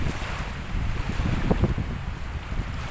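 Strong southwest monsoon wind gusts at a seaside in Barangay Libjo, Sitio Calejon, roaring and buffeting the microphone in a steady, loud rush with no voices.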